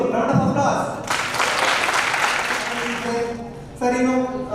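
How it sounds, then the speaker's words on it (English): Students at a national seminar break into a round of applause, a broadband burst of clapping that swells after a second and holds for about three seconds, with voices and room sound before and after. "Round of applause."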